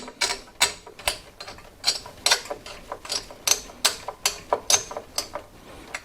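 A screwdriver ratchets in rapid, evenly spaced clicks while tightening the mounting screws of a CPU tower cooler on an Intel Core i9-10900K fitted to an MSI Z490 Gaming Carbon motherboard, close and crisp with no talk.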